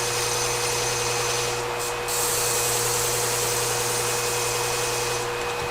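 Lefty thinning shears being sharpened on a worn 800 grit stone or wheel, a steady close grinding hiss with a constant motor hum and one brief dip partway through.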